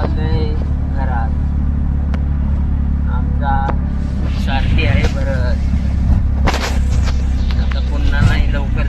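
An auto rickshaw engine rumbles steadily through a ride in the rain, a constant low drone with passing traffic noise, while people talk over it.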